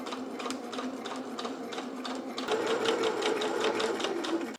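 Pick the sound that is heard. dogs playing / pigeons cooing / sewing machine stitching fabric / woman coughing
sewing machine stitching fabric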